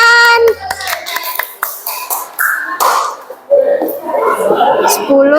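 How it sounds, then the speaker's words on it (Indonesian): Schoolchildren in a primary classroom clap their hands in short bursts and patterned rounds, the sharp claps mixed with young voices chanting and a few chuckles close by. "Tepuk tangan."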